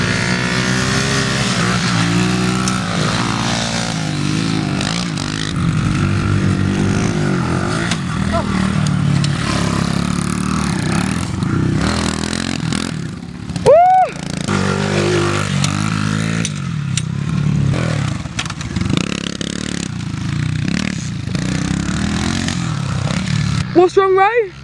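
Two pit bikes, a 110 and a 50, running on a homemade field track: buzzing small engines rev and whine near and far for the whole stretch, with people talking over the motor noise.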